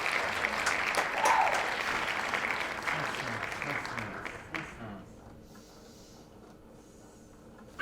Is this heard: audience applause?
yes